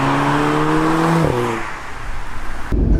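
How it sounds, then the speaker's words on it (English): A 2016 facelifted Audi S3 at full throttle: the engine revs hard and loud, shifts gear with a brief dip, then pulls again before easing off near the end. "That was a first sort of full throttle acceleration."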